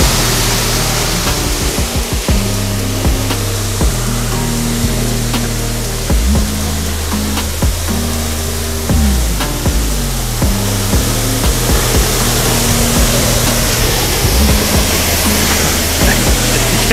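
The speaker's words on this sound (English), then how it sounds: "So you can actually walk like all the way underneath this waterfall," Moul Falls waterfall heard from underneath, a loud, dense, unbroken roar of crashing water close around the listener, with some low rumbling thuds mixed in.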